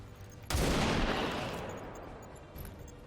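A volley of gunfire in XCOM 2 bursts in abruptly and loudly, a sustained crackling roar of shots that fades over a couple of seconds, with a smaller pop near the end and no talking.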